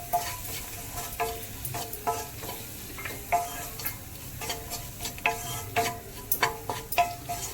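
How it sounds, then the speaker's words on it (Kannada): Ginger garlic paste with chilli powder, turmeric and garam masala frying in a pan for dal khichdi, a steady low sizzle broken by repeated sharp stirring scrapes and taps, close and moderately loud, with no talking. "ಇದು 1 ಮಿನಿಟ್ ನೀವು ಕಲಸಿದ್ರೆ ಫ್ರೈ ಮಾಡಿದರೆ ಸಾಕು, ಜಿಂಜರ್ ಗಾರ್ಲಿಕ್ ಪೇಸ್ಟ್."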